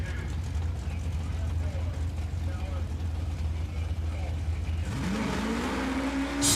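Drag race cars at a grudge racing event, with a steady low engine drone that breaks into rising revs near the end, as a voice speaks over the noise.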